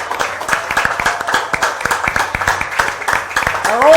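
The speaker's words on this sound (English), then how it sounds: "Give him a round of applause." A room full of people at a live Rutgers sports podcast event claps, a moderate patter of individual hand claps from a smallish crowd, with a brief tonal sweep near the end.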